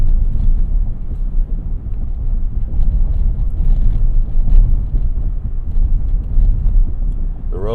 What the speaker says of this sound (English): You do hear some road noise.